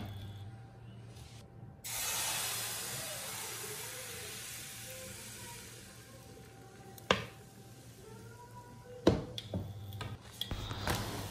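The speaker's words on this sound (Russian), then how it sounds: "И начинаем жарить блинчики." Pancakes frying in a lightly oiled pan give a steady soft sizzle and hiss throughout, with a few sharp clicks and knocks of a utensil near the end.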